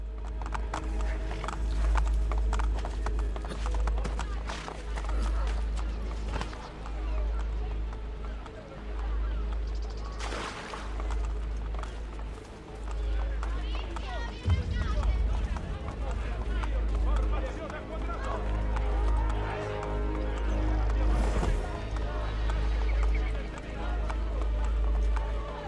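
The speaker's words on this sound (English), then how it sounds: "Go, Horsey." A horse gallops with a steady, rhythmic clip-clop of hooves in the video game Assassin's Creed: Brotherhood, running under a low rumble and game ambience throughout.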